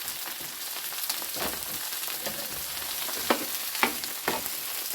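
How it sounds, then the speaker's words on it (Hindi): Okra and chopped onions frying in ghee, a steady close sizzle with crackling and a few sharp stirring scrapes, no voices. "पहले भिंडी को थोड़ा सा हमने सोते किया है ना घी में, तो अब हमने ऑनियन डाल दिए हैं"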